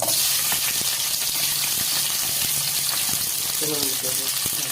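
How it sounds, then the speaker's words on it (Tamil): Onions crackle and sizzle in hot oil with a broad, steady hiss and scattered pops, brief clinks and muffled background voices. "இப்போ நம்ம வெங்காயம் போட்டு ஃபஸ்ட்டு தாளிக்கலாம்."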